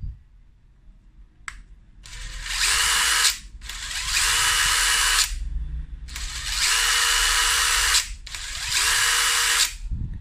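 INGCO 18V cordless screwdriver driving screws, four loud whirring bursts of about two seconds each with short pauses between, close up and alone.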